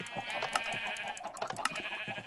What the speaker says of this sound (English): Come on, kill some of these sheep over the...